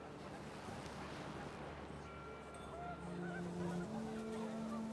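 Panicked geese honk in short, scattered calls over rising wind and water noise in the video game What Remains of Edith Finch, the cries fairly faint and brief against a steady windy ambience.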